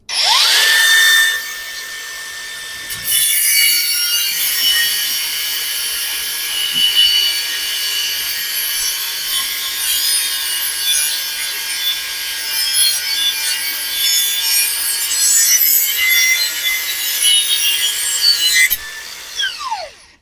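A Pumpkin 50279 cordless angle grinder cutting steel whines loudly and steadily through a long cut, a harsh high-pitched grinding that runs nearly twenty seconds before the motor winds down.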